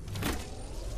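Shield cell charging in the Apex Legends video game, a brief quiet whirring electronic hum with a soft rising swell.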